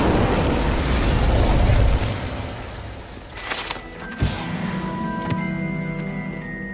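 Incendio fire spell cast in Hogwarts Legacy, a loud whooshing burst of flame that crackles and fades, followed by a softer popping hit and lingering magical chimes.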